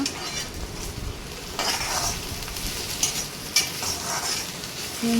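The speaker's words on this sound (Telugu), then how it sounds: "బాగా మిక్స్ చేసుకొని ఫ్రై చేసుకుంటూ ఉండాలి" Onion pieces with ginger and garlic sizzle in a hot pan, a steady frying hiss broken by repeated scraping and clinking strokes of a spoon stirring, close and loud, no talking.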